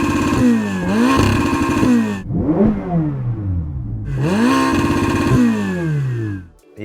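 Ferrari 488 Pista with its 3.9-litre twin-turbo V8 revving hard, loud and close, rising through repeated climbs and falls in pitch with a brief lift between two long pulls.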